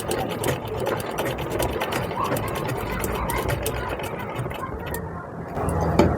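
A sewing machine stitches tucks on a blouse, its fast, steady mechanical whirr and needle ticking running close and loud throughout, with a brief change in pace near the end.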